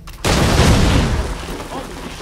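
In Assassin's Creed 3, a gunshot blows open a door with a sudden loud boom, followed by a rumbling, crackling blast that decays over about two seconds.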